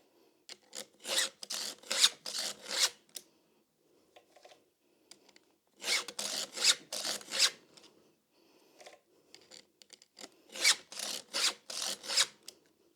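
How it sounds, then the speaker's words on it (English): Rhythmic rasping strokes of a file on chainsaw chain teeth, in three bursts of quick back-and-forth scrapes separated by short pauses, close and clear. "I will not bore you with the full process of sharpening chainsaw."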